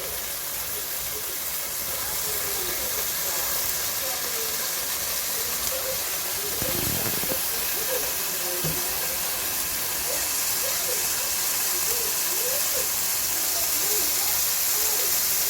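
Soy sauce burning and sizzling in a hot pan with green chili while cooking cup noodle rice, a steady loud hiss running throughout with faint voice-like sounds underneath.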